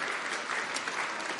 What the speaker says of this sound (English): You can give a round of applause if you want